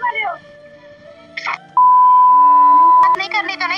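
A phone call ending produces a few short electronic tones followed by a long steady beep, loud and close, with a voice briefly before and after.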